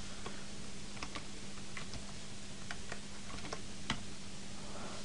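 Computer keyboard typed on while writing Minecraft mod code, faint scattered key clicks in short irregular bursts over a low steady hum.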